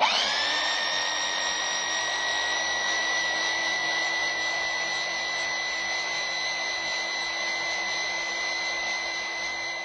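A vibration loosening test machine, run on a bolted joint fitted with a spring washer, gives off a loud continuous high-pitched whine and buzz that holds steady throughout.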